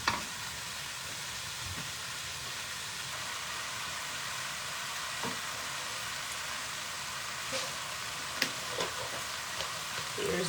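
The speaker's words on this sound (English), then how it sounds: "immediately you can tell the sizzle has changed" Tomato puree with turmeric, bay leaf, garam masala and black pepper sizzles steadily in a frying pan for a chickpea masala, a constant close hiss with a few faint clicks and scrapes.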